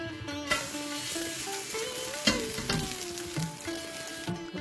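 A rava dosa, the semolina Indian pancake, cooks in a pan with a continuous moderate sizzle and a few sharp scrapes and knocks, with no voices.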